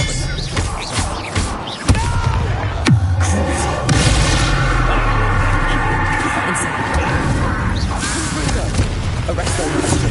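Magical spell combat in the Hogwarts Legacy video game brings booming impacts, thuds and whooshing effects that pile up over a dense, continuous game soundscape, while a voice speaks through much of it.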